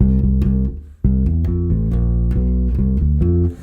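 A bass guitar plays a short, punchy run of low notes, moving steadily between pitches with a brief gap near the start.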